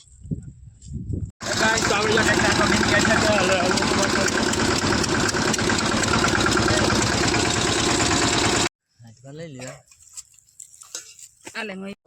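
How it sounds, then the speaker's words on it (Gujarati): A tractor engine running a thresher idles loudly and steadily for several seconds, then cuts off abruptly, leaving quieter background sounds and a voice. "આ ટ્રેક્ટર"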